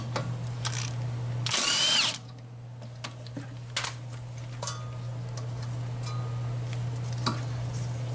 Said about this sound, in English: I'm just going to take my impact